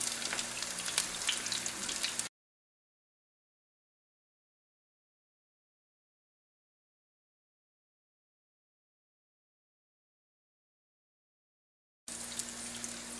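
Crab cakes fry in hot oil with a steady, close crackling sizzle; it runs a couple of seconds, drops into a long stretch of silence, then returns briefly at the end.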